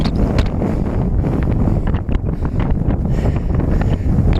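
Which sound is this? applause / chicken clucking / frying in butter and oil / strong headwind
strong headwind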